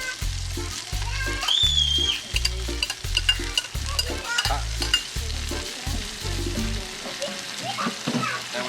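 Discada meat with bacon and vegetables frying on a disc, a loud close sizzle under a regular rhythm of heavy stirring scrapes, with a brief metallic squeal near the start, easing off toward the end.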